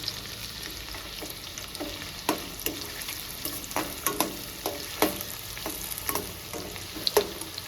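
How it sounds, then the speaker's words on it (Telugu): Onions, green chillies and curry leaves fry in a pan for mutton keema curry, a soft continuous sizzle broken by frequent sharp scraping clicks of a spoon stirring, with no talking. "ఇది మంచిగా ఫ్రై చేసుకోవాలండి ఉల్లిగడ్డ పచ్చిమిర్చి ఇంట్లోనే కరివేపాకు కూడా వేసుకుంటాం ఇప్పుడు"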